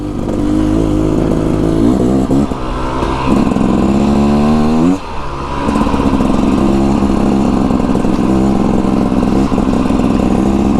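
A 2024 Beta Xtrainer dirt bike engine runs close and loud with a slightly burbly, uneven note, revving up and down in pitch with a brief dip midway, no speech.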